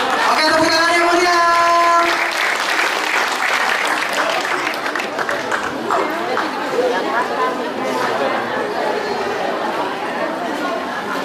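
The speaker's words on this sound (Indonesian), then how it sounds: "Oke, tepuk tangan yang mulia." A crowd at a political campaign event in Jakarta applauds steadily with loud, dense clapping that carries on for several seconds, mixed with chatter and cheering voices.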